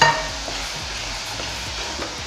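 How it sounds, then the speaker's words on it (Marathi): Milk poured into roasted wheat flour in a hot pan for sheera, giving a steady close sizzle with soft stirring scrapes and a brief louder burst at the start, no voices. "आता यामध्ये आपण दूध घालून घेऊया"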